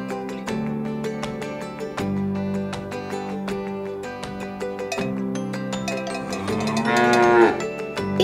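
A Fisher-Price toy plays a bright, plinking electronic tune with evenly spaced notes, then a recorded cow gives a single loud moo near the end.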